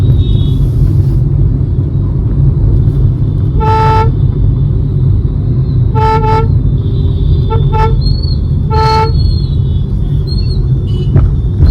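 A car horn honks several times during a late-night city drive, in short toots and one quick double beep, over a steady loud rumble of engine and road noise.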